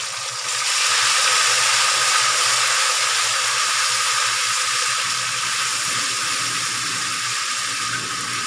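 Cumin seeds and mashed garlic hit hot oil in a pot for chicken pulao, bursting into a loud, steady sizzle that holds continuously close up, with no talking over it.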